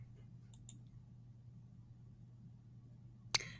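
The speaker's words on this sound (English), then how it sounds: "When you are done, click the microphone." Mouse clicks on a computer screen's microphone button: a quick pair of faint clicks early on, then one sharper click near the end, each alone over a low steady hum in a quiet room.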